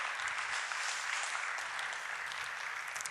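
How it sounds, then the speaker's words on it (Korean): Steady applause from an audience at a church gathering, many hands clapping densely and evenly for the whole stretch, with no voices rising above it. "한번 박수 해주시겠습니다"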